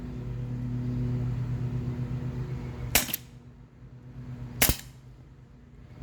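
A paintball gun fires two quick shots of frozen .43 caliber paintballs, each a sharp crack about a second and a half apart, close and loud over a steady low background hum.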